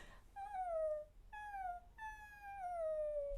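A high, light human voice imitates a crying dog whining at the door to be let in, three drawn-out falling whimpers with short pauses between them, quiet and alone.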